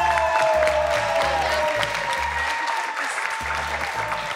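A studio audience at a children's fashion show claps steadily, a loud, dense wash of applause with a few cheers, measured by an applause meter while a music bed with a pulsing beat plays underneath.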